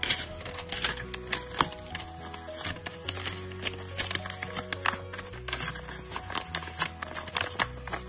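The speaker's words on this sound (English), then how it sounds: "Now let's wrap it in the paper." Paper is folded and wrapped around a Play-Doh taco from a Taco Bell playset. Dense, rapid crinkles and clicks run over faint music in the background.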